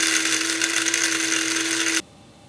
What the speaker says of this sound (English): We're just going to grind that up real fast